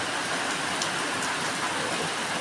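Heavy rain pours down steadily, a dense, even hiss with no breaks, close and loud throughout.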